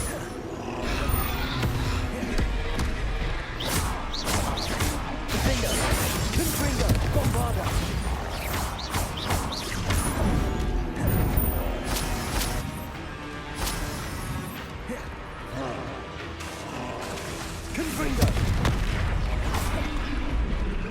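Spell explosions from Hogwarts Legacy, Bombarda and Confringo blasts, fire in quick succession as a loud battle, with repeated booming crashes and sharp impacts over a dense rumbling bed throughout.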